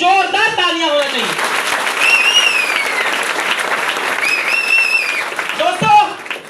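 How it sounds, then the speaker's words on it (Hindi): An audience applauds loudly to welcome a new guest at a business gathering, with continuous clapping throughout while a voice speaks and whistles or cheers rise above it. "यहाँ पर हमारे नए गेस्ट हैं, उनके लिए जोरदार तालियां होना चाहिए।"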